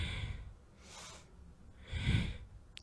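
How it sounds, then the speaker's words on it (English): Breathing during Kundalini yoga warm-ups in a gentle class, with slow rhythmic inhales and exhales rising and falling in a regular pattern, close and fairly soft. "We do a lot of rhythmic breathing"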